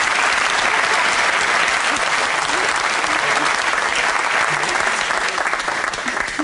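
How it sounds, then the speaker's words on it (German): A studio audience applauds for a man who volunteered on a German sports television show, a loud unbroken roll of clapping that holds steady for several seconds and dips slightly near the end. "Also Applaus für unseren mutigen Mann."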